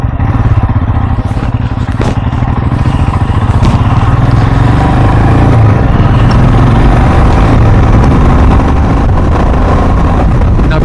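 Royal Enfield Himalayan motorcycle riding on trails, its single-cylinder engine droning steadily and loud throughout with constant low rumble and road clatter, no pauses or talk.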